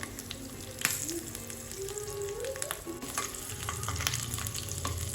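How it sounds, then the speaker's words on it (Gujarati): Green chillies roast in a hot pan for idli chutney, sizzling and crackling steadily with spatula stirs and scrapes, close and continuous, no voices. "આપણે તેમાં ગ્રીન લીલા મરચાં છે એ એડ કરીશું અને આ બંને વસ્તુને આપણે 1 મિનિટ જેવું શેકાવા દઈશું"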